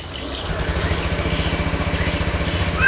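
A motorcycle engine, recently fitted with a new rotak and misfiring, idles close by with an uneven, pulsing putter that starts after a short gap and climbs in speed toward the end.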